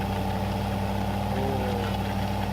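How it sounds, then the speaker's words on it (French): A 200-horsepower Steyr tractor engine idles steadily nearby, a continuous low mechanical hum with a regular throbbing pulse and no talk over it. "En fait c'est ça, on entend que ton tracteur."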